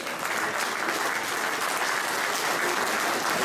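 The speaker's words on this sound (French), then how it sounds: "clin d'œil particulier à Manu Piard, qu'on peut applaudir très très fort, s'il vous plaît." An audience at a French public ceremony applauds loudly and steadily, dense sustained clapping filling the whole moment without pause.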